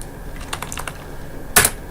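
Password being typed on a computer keyboard, a quick run of light key clicks followed by a single louder keystroke, close and clear with no talk.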